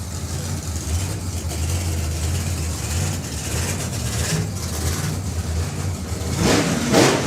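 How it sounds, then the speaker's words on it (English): A drag racing car does a low-revving burnout on the strip. The engine drones with a steady, deep rumble that swells louder near the end, heard across the track at a national finals meet. "So an uncharacteristically low revving burnout for Dave Smith there"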